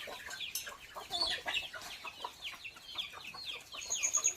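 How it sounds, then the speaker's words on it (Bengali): Chickens on a poultry farm raising fighter and other breeds, clucking and chattering in quick overlapping bursts, several birds close by and moderately loud with no talk. "তো আপনারা এখানে দুই জাতের মুরগি দেখছেন।"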